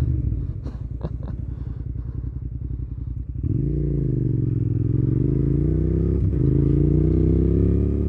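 Motorcycle engine running steadily while riding, freshly oil-changed, a continuous close, loud drone that rises and shifts in pitch partway through, with no talking.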